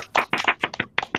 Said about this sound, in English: Claps for Dina. Claps for Dina.